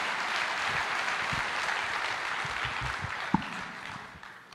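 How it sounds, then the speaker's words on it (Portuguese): Steady applause from a church congregation fills the space, a dense wash of clapping that holds evenly before tapering off slightly at the end. "Pode aplaudir o Senhor."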